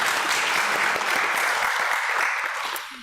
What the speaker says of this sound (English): Big applause to our online friends